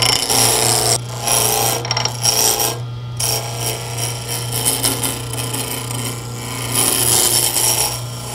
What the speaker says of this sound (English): Here I'm just using a spindle roughing gouge to remove the corners.